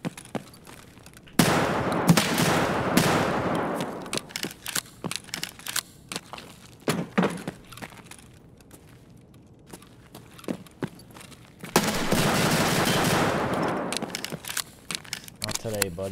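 Gunfire in a shooter game set in a factory, with loud sustained bursts of rapid shots near the start and again toward the end, quieter scattered shots and clatter between, and people talking over it.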